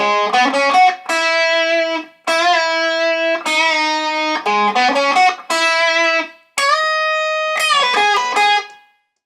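Electric guitar plays the first half of a song: quick runs of clear, ringing notes alternating with long sustained and bent notes, separated by a few short gaps, played alone and close.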